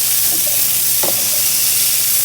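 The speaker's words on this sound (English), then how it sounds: "the sausage is in the pot. Put a teaspoon of butter in there just to get it started." Sausages frying in butter in a pot, a loud constant sizzling hiss with a couple of brief stirring clatters, no voices.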